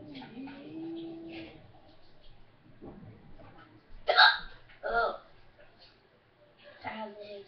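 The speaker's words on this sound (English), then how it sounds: "I have the hiccups." Several sharp hiccups from a person at a webcam, bursting out near 4 and 5 seconds with another around 7 seconds, close and fairly loud amid quiet speech and room sound.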